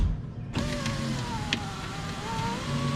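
The power window motor in the driver's door of a 1999 Buick LeSabre runs steadily, a close mechanical hum with a slight creak after the ignition sound settles.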